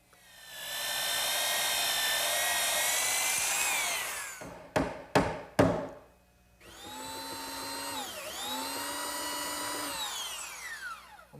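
A belt sander grinding off excess wooden dowel, with a loud sustained whine, then several short bursts, then a long second run whose pitch dips and recovers under load.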